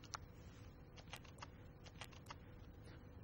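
Someone types on a computer keyboard while entering a search query. The keys make quiet, irregular clicks that patter along in short bursts, with no talking.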